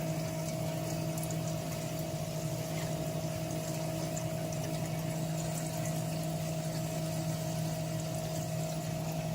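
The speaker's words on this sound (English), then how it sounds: "Start pumping water out." A water pump draws aquarium wastewater out into a bucket with a constant, close, tonal electric hum and watery hiss that stays unchanged throughout.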